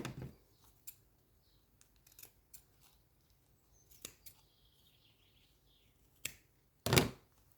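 Scissors cutting paper for a handmade craft memo pad: a few sparse, quiet snips spread out over a near-silent table, ending in one louder, sharper cut.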